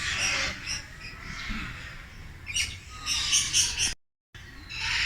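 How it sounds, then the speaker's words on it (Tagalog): Eclectus parrot at a zoo aviary, with bright chirps and squawking calls repeating over a busy outdoor background, loudest near the end before a brief cutout. "Ayan, eclectus."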